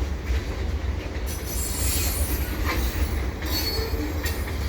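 A CP double-stack container freight train rolls past close by, its wheels squealing and clattering in a dense, continuous rumble with no voices.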